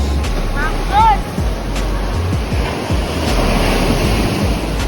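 Surf rolls onto a Bali beach in a steady wash of waves, roughed up by wind buffeting on the microphone, with a brief bird call early on and a few low thumps.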